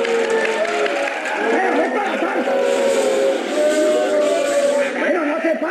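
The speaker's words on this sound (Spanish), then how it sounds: "¡Aplausos!" Audience at a talent show cheering and applauding, a steady loud wash of crowd noise with shouts and whistles running through the whole stretch.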